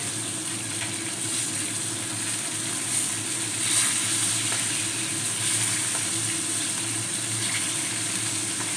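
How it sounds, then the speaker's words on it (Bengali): Katla fish fries in hot oil, sizzling and crackling steadily at close range, a continuous frying hiss with no talking. "উল্টে পাল্টে দুটো দিককে ভেজে নেব"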